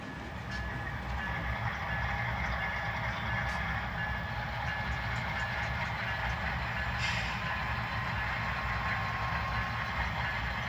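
A yard switcher locomotive moves out of the way in a rail yard, producing a steady, continuous diesel rumble with a faint beep-like tone, heard throughout without any voices.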